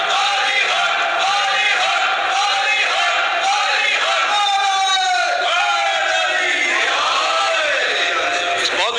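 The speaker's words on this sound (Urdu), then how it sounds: "ہم لگاتے ہیں حیدری نعرے" A crowd at a poetry majlis in Multan chants Haidari slogans, many voices shouting together in loud rising and falling call-and-response waves that fill the whole stretch without pause.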